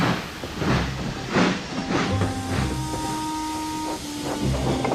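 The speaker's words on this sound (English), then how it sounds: "with a low toot, Thomas chuffed sadly back to Tidmouth." A cartoon steam engine from Thomas and Friends chuffs in rhythmic hissing puffs, with a low steady whistle tone running beneath, no voices.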